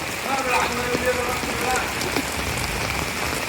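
Rain patters steadily onto standing water on a flooded Dhaka street, with scattered drips and splashes close by over a constant soft hiss.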